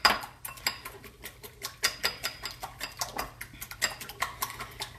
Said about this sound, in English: When you use a wire whisk, then you also end up giving the eggs a little bit of air